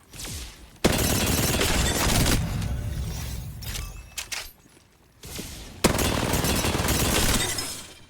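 Rapid automatic gunfire in a mech shooter video game, loud sustained bursts broken by brief pauses and scattered single shots, close and with no talk.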